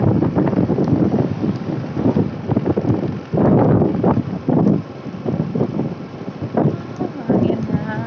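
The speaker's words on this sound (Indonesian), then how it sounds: "Dan ini teman-teman, anginnya kencang sekali ya." Strong wind at Pangandaran beach roars steadily and loudly into the microphone, buffeting it in gusts throughout, with a voice speaking underneath.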